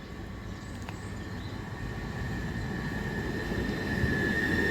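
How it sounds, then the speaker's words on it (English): A Southeastern Class 375 electric train pulls into a Medway Valley Line station in Kent, a steady low rumble and rising whine growing gradually louder as it approaches, with no talking. "arriving in now is going to be the 10:03 Southeastern service to Paddock Wood"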